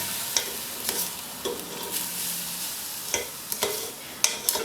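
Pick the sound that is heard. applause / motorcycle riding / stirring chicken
stirring chicken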